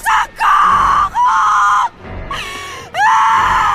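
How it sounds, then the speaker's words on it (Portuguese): A girl screams in a Halloween slasher film, with loud, drawn-out, high-pitched shrieks repeating in separate bursts and a short break between them. The shrieks are close and intense. "essa garota não para de gritar"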